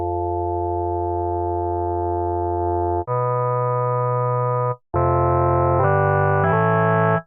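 Buzzy organ-like synth tones with tube distortion, holding one chord, then stepping up to higher chords in a short sequence, loud and close.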